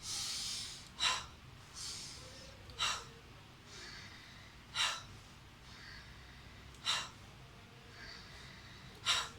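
Forceful breathing exercise for the lungs: about six sharp, loud exhalations through the nose come at a steady rhythm roughly two seconds apart, with softer inhalations between, close and alone.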